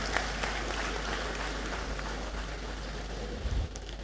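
Steady applause from an audience in a great hall at a university congregation ceremony, a soft, even patter of many hands, distant and fairly faint, with a low hum underneath.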